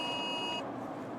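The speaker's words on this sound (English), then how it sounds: "Hear all the weather radios going off." Weather radios and phones sounding tornado warning alerts: a steady high electronic tone holds for over half a second, then cuts out, leaving a loud rumbling vehicle interior with road noise.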